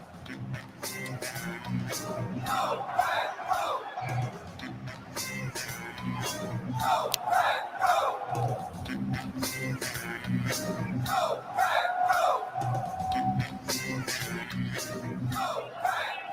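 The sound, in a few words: stadium crowd cheering at NFL draft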